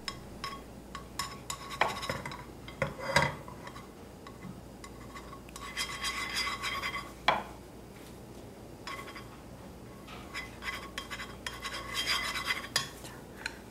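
A utensil scrapes and stirs in a pan as butter melts before spinach goes in, with intermittent close scraping strokes and clinks over a low background hiss.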